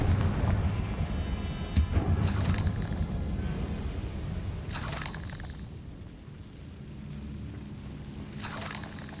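Several Confringo fire spell explosions go off in the Hogwarts Legacy video game, loud booming blasts landing in a rough sequence over steady game ambience, with no talking.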